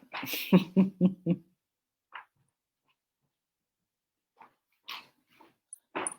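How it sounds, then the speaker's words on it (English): Poppy, an eight-year-old female Maltese dog, gives a quick run of four or five close, high yaps, then a few scattered faint whines and small sounds in a quiet room. "She's an 8-year old Maltese."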